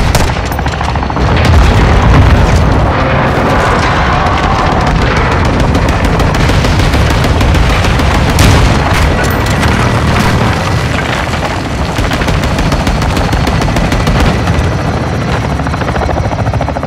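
Artillery strike explosions in Call of Duty Modern Warfare II, with heavy booms and bursts of gunfire over a loud, constant helicopter rotor drone that runs through the whole stretch.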